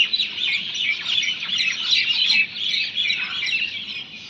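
Small birds chirp and twitter outdoors on a cold winter morning, a dense chorus of quick high tweets overlapping continuously at moderate distance, with no voices.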